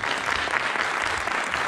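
An audience at a Republic Day concert by a Turkish music club applauds, a steady, even roar of close clapping that fills the whole moment without pause.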